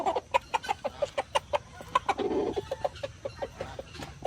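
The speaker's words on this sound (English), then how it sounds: "He's a shelter rooster." A friendly shelter rooster clucks in quick, regular bursts, a steady run of short close calls with a slightly longer throaty call midway, heard alone outdoors.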